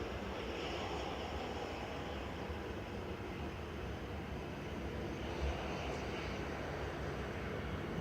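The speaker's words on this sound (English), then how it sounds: "Next in after that is Ryanair from Cork, just about to land" A 16-year-old Ryanair Boeing 737-800 from Cork landing at Manchester Airport, a steady broad engine rumble and whoosh at some distance, even in level throughout with no talk.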